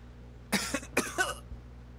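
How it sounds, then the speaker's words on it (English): A person coughs three times in quick succession, close and fairly soft, with short gaps between the bursts over a quiet background hum. "I'm coughing. Excuse me."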